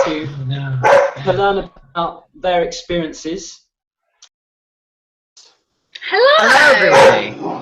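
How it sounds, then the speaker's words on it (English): A person speaks in short phrases, then after a pause a dog erupts into loud, close barking that fills the last second and a half. "Oh my gosh, the dog."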